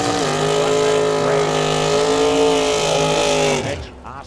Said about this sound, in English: Mitchell Ostrom in that Opel GT. Got a 400 cubic inch power plant.